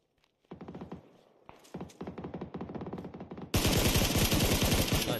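Rapid video game gunfire, bursts of automatic shots in quick rhythmic volleys, growing louder and denser toward the end with a sustained heavy barrage, no talk over it.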